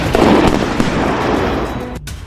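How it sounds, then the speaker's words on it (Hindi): An explosion from a US strike in Somalia, heard as a loud, dense burst of crackling blasts that rumbles on for about two seconds and then cuts off abruptly. "धमाका अफ्रीका महाद्वीप के सोमालिया में हो रहा है।"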